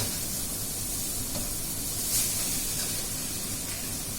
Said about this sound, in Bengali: এবার শুধু ভাজতে থাকবো